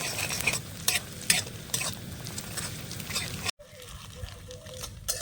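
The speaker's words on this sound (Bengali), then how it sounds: "এবার ডিমটা ভেঙে ভাজা ভাজা করে নেব" A broken egg fries in hot oil in a pan, with a close, crackling sizzle and spatula scrapes and taps, then a brief cut to a quieter sizzle.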